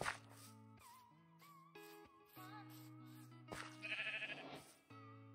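Minecraft sheep bleat repeatedly over game background music, the wavering calls fairly clear and close with no talk.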